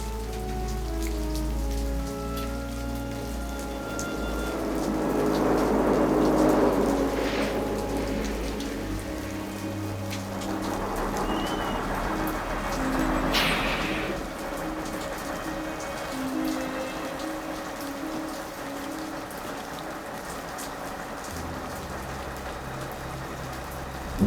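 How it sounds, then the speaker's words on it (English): Pouring rain at night, a dense, continuous hiss of drops on surfaces that swells and eases slightly, with low rumbling underneath and no voices. "One look in the dark in the pouring rain and he's sure."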